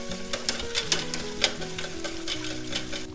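Spice powders, including chili, turmeric and coriander, being stirred into kadhi: soft, irregular scraping and tapping of a spoon in the pot, with a faint background hum and gentle bubbling.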